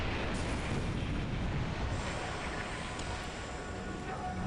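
A torpedo explodes against a ship in a World War II naval war game, a deep, sustained rumbling blast that roils on with a dense low roar and a few sharper pops near the end.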